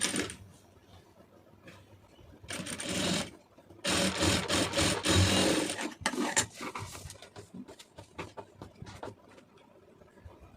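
A sewing machine stitches an Aari-work blouse decorated with stones, running in short bursts of close, moderately loud stitching separated by brief pauses, with no talk.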